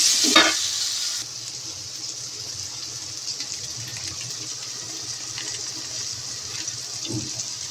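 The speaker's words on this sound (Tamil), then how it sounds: "தக்காளியை போட்டு நல்லா வதங்க விடணும்." Tomatoes sautéing in a pan for a dried fish curry give a steady, even sizzle throughout. A couple of brief stirring clatters sound near the start and end, close up, with no voices.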